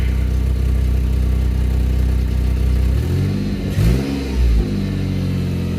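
A 2004 Mazda 6 engine with newly replaced motor mounts, idling steadily at first, then revved in a couple of quick blips that rise and fall, close up and loud.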